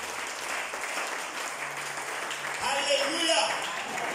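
Church congregation clapping and acclaiming in a worship service, a sustained patter of applause with shouts rising louder near the end, mixed with voices.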